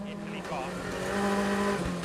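A Ford Fiesta RS rally car is driven hard through sodden, rain-soaked stages at the Spain round of the 2012 WRC, its engine note rising and falling in a short, fairly faint burst.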